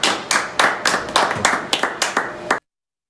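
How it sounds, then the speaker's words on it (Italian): An audience at a ceremony clapping, a short burst of crisp, close hand claps in a quick steady rhythm that cuts off abruptly. "facciamo un applauso"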